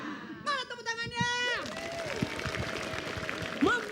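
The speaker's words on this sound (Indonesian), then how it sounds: "Mana tepuk tangannya?" Audience applause at an Islamic religious talk given by an ustadz, a broad wash of clapping that swells after a short musical or vocal tone, mixed with crowd voices and some talking throughout.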